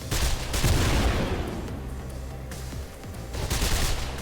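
Assault rifle fire in Mirror's Edge roars as dense, sustained automatic bursts, loud and continuous with brief dips between volleys.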